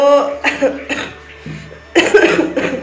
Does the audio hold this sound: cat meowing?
no